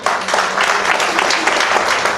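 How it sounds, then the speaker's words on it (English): A round of applause from a gathering of people at a get-together: steady, dense clapping with no pauses, close and fairly loud throughout. "we should welcome them with a big round of applause"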